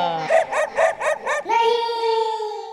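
Dogs bark during a singing practice session, about five loud rhythmic barks in quick succession followed by a long, drawn-out howling tone, close and prominent.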